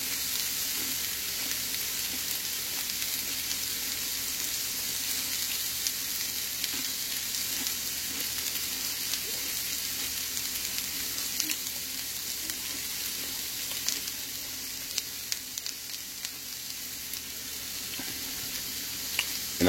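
Bacon frying in a pan, with a steady, close hiss and crackle of sizzling fat that runs unbroken and fairly even throughout, with no talking.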